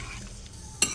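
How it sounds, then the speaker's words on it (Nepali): Paneer sizzles in a pan while a utensil stirs it, with a short burst of louder crackling near the end of the brief moment, and no voices. "म चाहिँ त्यो अहिलेको पनिरलाई यसरी हाल्छु, यसलाई एकछिन पाक्न दिन्छु"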